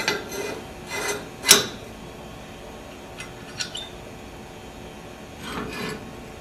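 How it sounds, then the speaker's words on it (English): Metal collar of a soil compaction mold being fitted onto the mold, a few faint scraping and clanking metal contacts, one sharper knock, in a quiet room. "the first thing we want to do is we want to put the collar onto our mold"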